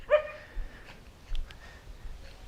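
One short dog bark rings out near the start, followed by fainter scattered yips and rustles from somewhere in the middle distance outdoors.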